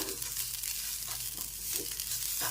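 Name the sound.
stirring coconut into roasted semolina in pan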